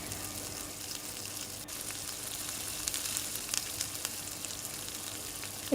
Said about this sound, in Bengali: এরপর ওই কড়াতেই আমি আরও কিছুটা তেল দিয়ে কুচিয়ে রাখা পেঁয়াজটা দিয়ে একটু লালচে করে ভেজে নিচ্ছি।